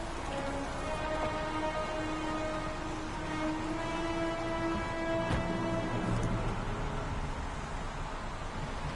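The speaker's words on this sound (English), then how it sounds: "Goddamn rain. Hasn't stopped pouring since I arrived." Steady heavy rain pours down in the video game Heavy Rain, a dense continuous hiss with scattered droplet spatters and faint low rumbles, loud and constant throughout without any talk.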